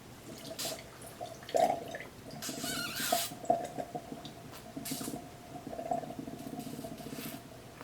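Water dripping out of a dirty, partly blocked computer water cooling loop as air is blown through it. A few sparse, faint drips and small wet squishes land at irregular intervals over a quiet background.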